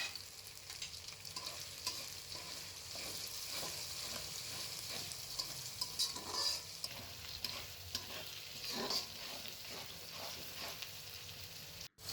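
Seven or eight sliced green chilies fry in a pan for a vegetable khichuri, a soft continuous sizzle with repeated scraping stirs, close but fairly quiet, ending in a brief sharp clunk.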